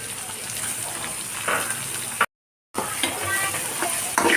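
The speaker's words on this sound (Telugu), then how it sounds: "మనకి స్వీట్ కార్న్ కొంచెం వేగగానే క్యారెట్ అనేది వేస్తున్నాం." Sweet corn and finely grated carrot fry for upma in a pan, with a close, continuous sizzle and stirring scrapes. A brief silent gap interrupts the sound before the frying resumes.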